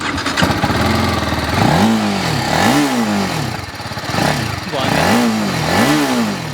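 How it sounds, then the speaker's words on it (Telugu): A BMW sports motorcycle engine idles, then revs up repeatedly in a series of sharp, loud throttle blips, each rising and falling. "బండి అయితే మీకు ఆన్ చేసి చూపిస్తాను, దీని సౌండ్ ఎట్లా ఉంది అనేది."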